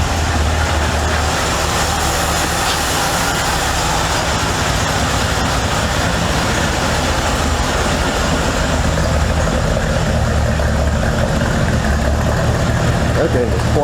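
A rebuilt Chevy Impala engine idles steadily and quietly at its first start after sitting abandoned, a constant low rumble that holds for the whole stretch with no revving and no talk over it.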